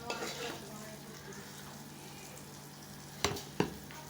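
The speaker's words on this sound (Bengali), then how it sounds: "কড়াইতে ভালো ভাজা হচ্ছে, সুন্দর ফুলছে, অল্প তেলের মধ্যেই" Food frying in a small amount of oil in a wok gives a steady, quiet sizzle, with two sharper stirring clinks near the end.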